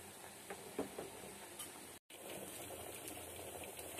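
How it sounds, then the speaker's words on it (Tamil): Pannai keerai spinach boils uncovered in a pot, giving a steady, soft bubbling hiss with faint scattered pops that runs throughout, with a brief dropout midway. "கீரை நல்லா கொதி பிடிச்சி நல்லா வேக ஆரம்பிச்சிருச்சு"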